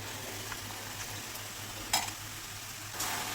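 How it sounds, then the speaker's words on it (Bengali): Spices being sautéed in oil together with boiled lentils, cabbage and potato for a Bengali vegetarian cabbage dish, giving a soft steady sizzle with light stirring scrapes and a couple of brief clinks. "মশলার সাথে সব কিছু একসঙ্গে 3 থেকে 4 মিনিট কষিয়ে নেব।"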